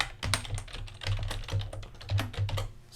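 Quick bursts of close keyboard typing while entering code, the keys clicking in short uneven runs with brief pauses between them.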